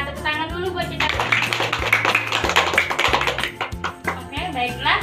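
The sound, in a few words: class of pupils clapping hands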